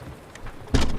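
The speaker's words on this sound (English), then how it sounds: "The sound of the rain growing louder and then shut." A rain sound effect swells as a door opens during a storytelling session: a soft hiss of rain, then a sudden louder burst of rain noise with a thump toward the end, with no talking.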